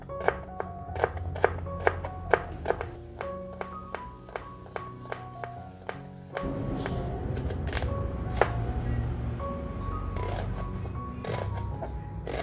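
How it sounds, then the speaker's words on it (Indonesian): A knife slices seasoning spices thinly on a cutting board for a tofu dish, giving a run of crisp, evenly spaced chopping taps up close, then a louder, busier stretch with scattered cuts over background music. "Selanjutnya kita potong-potong bumbunya. Kita potong tipis seperti ini aja ya."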